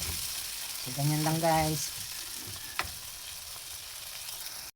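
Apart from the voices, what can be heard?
corned beef being stirred while sautéing in a pan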